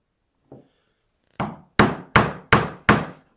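A Narex Richter chisel cutting wood for box joints, five sharp, loud knocks in a steady rhythm after a single soft tap, close and alone.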